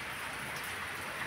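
Rain falls outdoors as a steady, even hiss that runs unbroken, then ends on a sudden loud knock.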